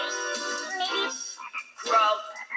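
A frog croaks in a string of short, raspy calls with brief gaps between them, sounding close and fairly loud with no talk over it, as in an animal song for children.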